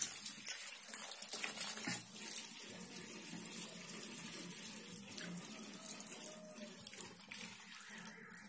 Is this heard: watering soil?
yes